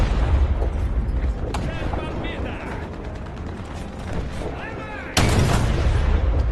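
Tank cannon fire in a video game lands as heavy booming blasts over rumbling engine and mechanical clatter, with a sharp loud report near the end. A player talks throughout.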